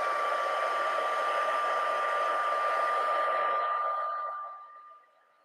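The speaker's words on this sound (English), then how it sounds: "So I'm going to go ahead and heat set this, and maybe you'll be able to see it once it starts to change because it'll get shiny." A heat tool blows hot air to set embossing powder, giving a loud, steady whooshing hum that runs close and alone for several seconds before winding down and fading out.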